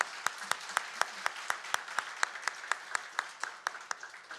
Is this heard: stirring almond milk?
no